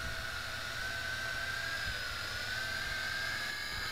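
Tarantula X6 quadcopter drone motors whining steadily as it comes in to land with throttle reduced, a continuous high buzzing hum with slowly shifting pitch, close and alone.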